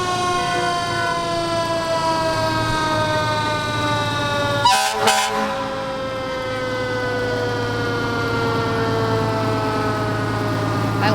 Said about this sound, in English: This is Ted Mercer's fire truck.